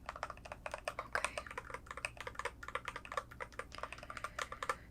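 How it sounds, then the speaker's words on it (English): Fingers type on a computer keyboard in a doctor's office setting, a steady run of soft, close key clicks with no talk. "I'm just going to move this keyboard back."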